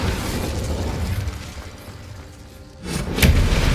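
Incendio fire spell from Hogwarts Legacy: a sustained rushing, roaring burst of magical flame, dipping briefly before a sharp crackling pop and a louder whooshing surge, heard up close with no talk.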